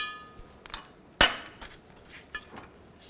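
An 11mm socket works caps off a Chevy Tahoe engine, with sparse metallic clicks and one sharp clank of tools on metal.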